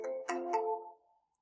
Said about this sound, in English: So now I'm connected on the next number. You can hear it ringing.